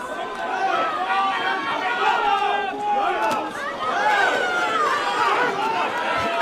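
A boxing crowd at the Chumash Casino Resort keeps up a steady roar of chatter and cheering for Omar Trinidad, with a commentator talking over the noise throughout.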